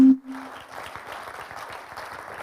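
At a startup competition finale in Austria, an audience applauds, with a brief tone at the start giving way to steady, moderately loud clapping from a crowd.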